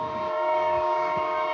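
A passing coal freight train gives a steady, sustained horn-like whistle tone over a continuous rumble, close and loud, filling the whole moment without speech.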